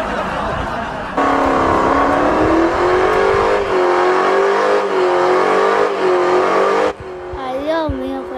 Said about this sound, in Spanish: Lo voy a acelerar